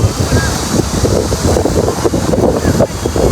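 Strong wind buffets the microphone in loud, rumbling gusts on a downtown street in Hangzhou, China, a constant roaring rush with faint indistinct voices beneath.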